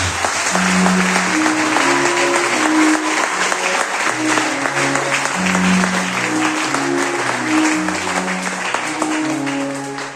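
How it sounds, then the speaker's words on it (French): A church congregation at Sunday Mass applauds and cheers loudly for Jesus, with steady sustained clapping throughout and tones from the room sounding beneath the crowd noise. "acclame très fort pour Jésus"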